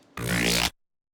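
A single short burst of a dense, gritty electronic synth, loud and dry, cutting off abruptly into silence.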